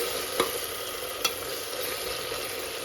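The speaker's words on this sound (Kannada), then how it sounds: "ನಾನು ನೀಟಾಗಿ ಒಂದು ಐದು ನಿಮಿಷ ಬಾಡಿಸ್ಬಿಡೋದಾಗುತ್ತೆ ಐದು ನಿಮಿಷ ಬಾಡಿಸಿ ಅಂದಿದ್ನಲ್ಲ" Field beans (avarekalu) sautéing with masala in a pan, a steady close sizzle with two sharp spoon scrapes against the pan, no voices.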